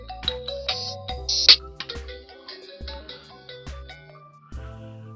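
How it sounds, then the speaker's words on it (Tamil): A lost mobile phone rings on a remote command, playing a bright melodic ringtone with repeated tones, clear and close with nothing else heard. "இப்போ இந்த மொபைல் வந்து ரிங் ஆகுது."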